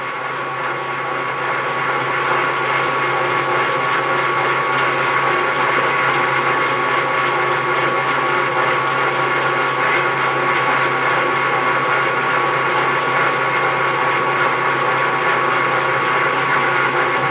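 A machine cutting a metal part, producing a steady, continuous grinding whine with a constant hum running evenly throughout, loud and close with no talk.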